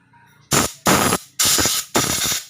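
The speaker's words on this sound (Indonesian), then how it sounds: "Oke, kita semprot." Cleaner is sprayed onto a fuel-injected motor scooter's injection part in four loud, close hissing bursts, each about half a second long with short pauses between.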